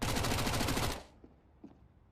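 Rapid SMG fire in Counter-Strike 2, a fast dense burst of shots lasting about a second before cutting off, followed by a few faint distant clicks and thuds.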